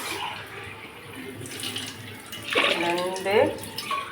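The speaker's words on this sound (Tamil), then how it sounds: "உலக்கு தண்ணி ஊற்றிக்கலாம்." Water pours and splashes into a cooking pot of curry leaves and dried red chillies, growing louder midway, over soft background noise.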